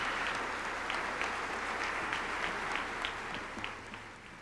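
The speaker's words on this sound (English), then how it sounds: "give them a round of applause as they sit down" Sustained applause from a gala audience at a 1998 centennial celebration, a steady, moderately distant wash of many clapping hands that holds evenly throughout and tapers slightly at the end.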